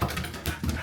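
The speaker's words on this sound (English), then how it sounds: "He's a happy dog." A happy dog panting indoors in short, quick breaths, close and fairly quiet, with no other sound over it.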